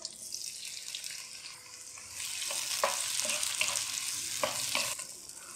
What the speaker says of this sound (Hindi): टमाटरों को हल्का सा हम फ्राई करेंगे